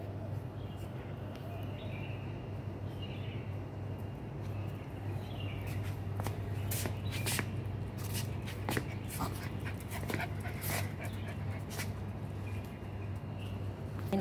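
Several dogs panting and moving about indoors, a continuous quiet panting with scattered clicks, shuffles and faint whimpers, plus a few bird chirps in the background.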